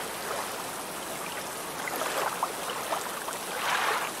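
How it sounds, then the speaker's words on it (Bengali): Rain pours by a riverbank in a cartoon scene, a steady hissing wash of water with soft splashy swells, loudest toward the end, and no voices. "বলতে না বলতে দেখি বৃষ্টি চলে এলো"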